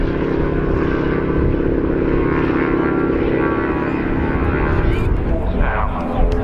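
Propeller aircraft taking off at the RAF Cosford Airshow, a loud continuous engine drone with a steady throbbing hum that holds throughout, its texture shifting slightly near the end as the plane climbs away.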